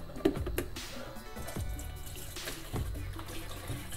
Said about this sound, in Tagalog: So, lalagyan na natin siya ng tubig.